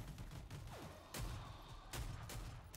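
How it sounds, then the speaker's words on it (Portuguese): Gunfire in the Rogue Company shooter game: a few sharp, separated shots crack out over a low rumbling background, fairly quiet overall, with no talking. "Acho que tem alguém ali no chão, ali atirando"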